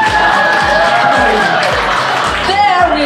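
An audience of nurses at a humor talk breaks into applause and cheering, a loud dense wash of clapping with whoops that fills the room throughout.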